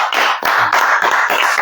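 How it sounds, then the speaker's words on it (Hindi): Church audience clapping hands in unison, loud steady rhythmic claps close up, about a dozen beats, with no talking over them. "अब ताली बजाइए।"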